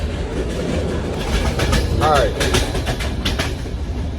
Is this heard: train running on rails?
yes